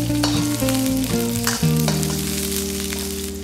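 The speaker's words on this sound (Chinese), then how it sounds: "锅中烧油，放入大蒜和小米辣，" Garlic and bird's eye chilies sizzle loudly in hot oil in a wok, a steady crackling fry with stirring scrapes and a few clanks, no voices.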